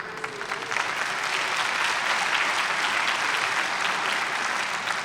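Sustained applause fills a hall at an Illinois Supreme Court chief justice investiture ceremony, a broad, even roar of many hands clapping without pause.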